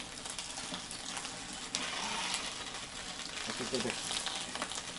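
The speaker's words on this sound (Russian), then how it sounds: "Ох, как там жарит." Meat and cabbage fry in a kazan cauldron for Uzbek-style dimlama, a steady broadband sizzle and crackle throughout, with a brief spoken word over it.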